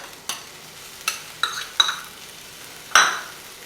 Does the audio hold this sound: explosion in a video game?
no